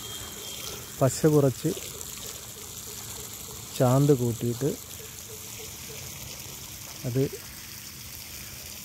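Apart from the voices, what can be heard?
water being poured onto concrete roof slab for curing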